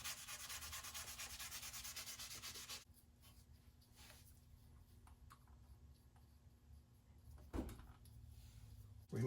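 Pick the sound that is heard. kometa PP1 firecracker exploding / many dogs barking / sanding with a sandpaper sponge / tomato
sanding with a sandpaper sponge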